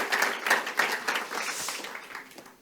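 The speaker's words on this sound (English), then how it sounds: "a round of applause for his very enlightening talk" An audience claps after a talk at a conference on vehicle software. The applause is brief and moderate, with dense clapping that tapers off over a few seconds.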